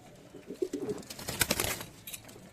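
Madrasi and Giribaz pigeons in a loft make low rolling coos, with a burst of sharper fluttering and scuffling at mid-clip amid an otherwise soft, close murmur.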